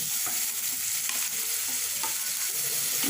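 Steady sizzling and frying as ground masala for egg gravy sautés in a hot pan, with occasional stirring scrapes, continuous and close.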